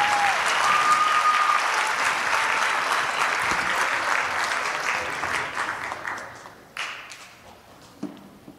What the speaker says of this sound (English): So please, one big round of applause for the middle school band directors.